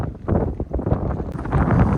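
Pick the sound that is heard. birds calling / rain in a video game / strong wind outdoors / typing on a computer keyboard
strong wind outdoors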